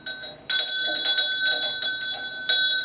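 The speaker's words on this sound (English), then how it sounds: "These were the call bells that were used to call enslaved workers to certain rooms in the house." Historic brass call bells at Tudor Place in Georgetown, Washington, D.C., once used to summon enslaved workers to rooms of the house, ringing in a handful of bright, sharp strikes with lingering metallic tones, close and loud.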